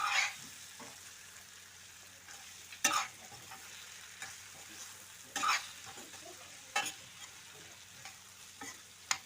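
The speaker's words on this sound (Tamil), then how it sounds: "நல்லா பெரட்டுங்க." Vegetables stirred and fried in a pan make a quiet, steady sizzle broken by several sharp spatula scrapes and clatters at irregular intervals, with no voices.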